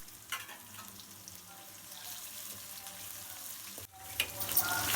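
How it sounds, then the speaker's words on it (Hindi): Finely chopped garlic cloves and ginger fry quietly in a pan, a low continuous sizzle with a few stirring clicks and a louder burst of sizzling toward the end. "अच्छे से फ्राई करेंगे"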